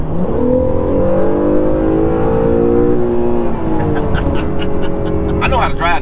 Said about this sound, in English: Those turbos sound great, man.